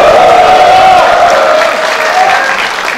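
Crowd at a political rally for decentralization applauding and cheering, a loud continuous mass of clapping and shouting that tapers slightly toward the end.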